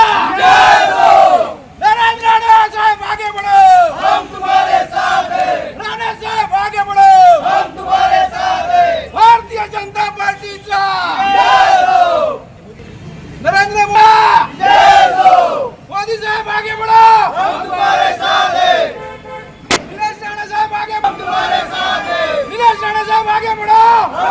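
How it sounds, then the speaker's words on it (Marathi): BJP workers cheer and celebrate outside the party office in Kudal, a loud crowd roaring and chanting in waves with voices shouting over one another throughout. "कुडाळ भाजप कार्यालयासमोर भाजप कार्यकर्त्यांनी जल्लोष करायला सुरुवात केलेली आहे"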